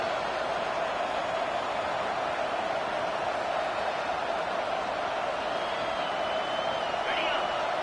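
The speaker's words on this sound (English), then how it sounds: "Listen to this crowd just shaking the girders of this place, trying to help their defense." Stadium crowd roaring in a college football video game, a dense, steady wall of noise that holds at constant loudness throughout, with a brief whistle-like rise near the end.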